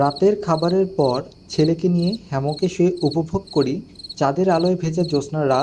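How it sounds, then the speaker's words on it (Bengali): At night at a forest resort near the tea gardens of Sreemangal, crickets keep up a faint, steady high chirr beneath continuous spoken narration. "এবং চারপাশে ঝিঝি পোকার ডাক"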